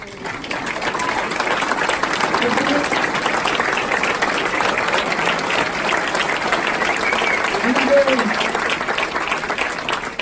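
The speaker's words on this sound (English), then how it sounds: "stand up again to get another round of applause" Sustained applause from a large audience honoring orange-shirted volunteers at an Honor Flight Rochester veterans event, steady and dense for the full stretch with faint crowd murmur beneath.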